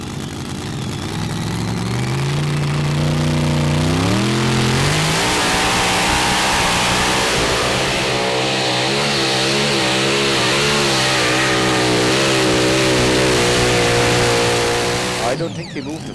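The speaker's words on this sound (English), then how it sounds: "And the next tractor is Let's Try from Holland." A pulling tractor's engine roars at a tractor pulling event in Brande, Denmark, revving and climbing in pitch early, then holding a loud, strained drone before cutting off near the end, with an announcer talking over it.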